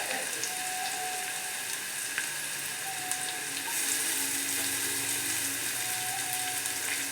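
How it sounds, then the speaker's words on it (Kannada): Chopped ginger, onion and green chillies with bay leaf frying in oil in a pan for a broccoli pulao, a quiet continuous sizzle with faint clinks, close and steady. "ಕಟ್ ಮಾಡಿರೋ ಶುಂಠಿ, ಈರುಳ್ಳಿ ಹಾಕ್ತಾಯಿದ್ದೀನಿ, ಮೆಣಸಿನ್ಕಾಯಿ ಹಾಕ್ತಾಯಿದ್ದೀನಿ"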